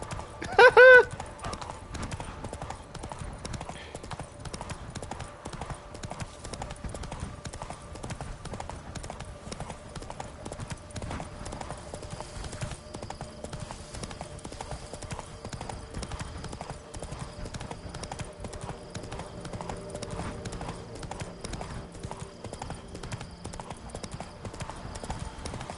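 Roach the horse galloping in The Witcher 3, a fast, unbroken run of hoofbeats held at an even level for nearly half a minute, with a brief louder burst near the start.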